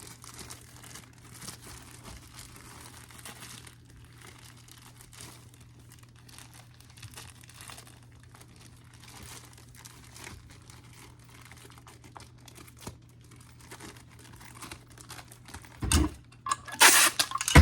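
Plastic packaging rustles and crinkles faintly while an eBay shipment is packed, with soft, scattered handling noises throughout and a louder burst of crinkling near the end.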